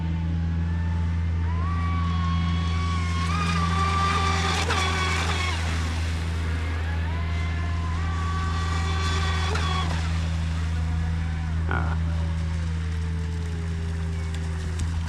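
An electric Proboat Recoil RC boat running on 4S with three-blade 1.7 pitch props gives a steady loud motor drone and whine, with pitch rising and falling as it speeds up and slows, over a constant low hum.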